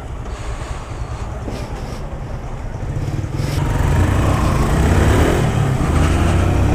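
Yellow 2022 Honda Titan motorcycle, fitted with a turbo-style exhaust, LED indicators and a mismatched brake, idles as a steady engine drone that swells and grows louder about halfway through, with some wind noise over the microphone.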